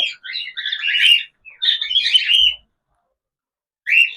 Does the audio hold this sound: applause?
no